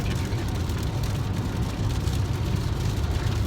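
Steady broadband rain hiss drumming on a car's roof and windows, constant and close throughout without pause.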